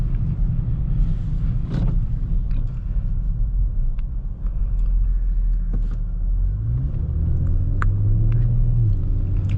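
A Kia Stinger GT2 AWD pulls away on an untouched, snow-covered suburban road during a Chicago winter storm. A low, continuous rumble from inside the cabin builds into a rising engine note as it accelerates, with faint scattered clicks.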